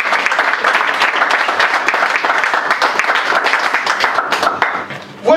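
A church congregation claps and applauds continuously during a French-language sermon, a dense, steady wash of many hands filling the room, tapering briefly near the end.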